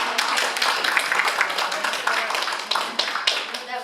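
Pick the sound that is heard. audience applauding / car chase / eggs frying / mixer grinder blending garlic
audience applauding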